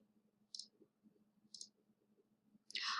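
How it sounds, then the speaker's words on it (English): Three separate computer mouse clicks, about a second apart, crisp and close against a faint low background hum; the last click is slightly louder and longer. "We're going to click Continue."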